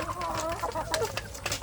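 Free-range native village chickens cluck steadily in a close, busy chorus, with short sharp calls popping out over a constant low background murmur.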